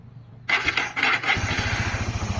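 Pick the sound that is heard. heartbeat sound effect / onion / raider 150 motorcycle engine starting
raider 150 motorcycle engine starting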